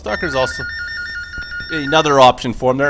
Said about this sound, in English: I do apologize for my phone going off here